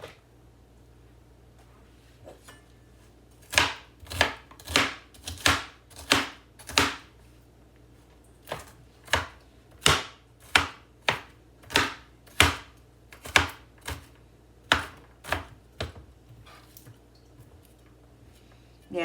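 An onion is chopped on a board with sharp, evenly spaced knife strikes, about twenty firm chops coming in two bursts after a quiet start.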